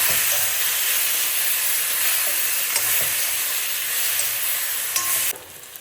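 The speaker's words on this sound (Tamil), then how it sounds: "இது நல்லா கிளறி கொடுக்கலாம்" Food being stirred in a hot pan during preparation of a sweet panchamirtham suzhiyam, a steady sizzling fry with scraping strokes, close and continuous, then quieter for the last moment.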